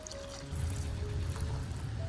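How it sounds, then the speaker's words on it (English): Clean water is poured into a large basin of okra, a soft continuous trickling and splashing that is close but quiet. "and add a bit of salt, then pour in clean water."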